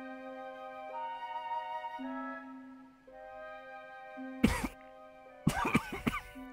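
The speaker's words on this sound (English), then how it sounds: "And someone else is coming coughing." Someone coughs twice on a train in the video game The Raven, a single short burst and then a rougher fit, over a steady electronic hum.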